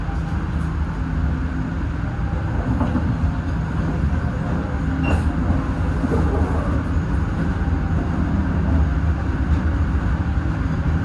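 Steady rumbling of the Blambangan Ekspres passenger train rolling along rails in Indonesia, with continuous low clatter and wheel noise close by, no talking.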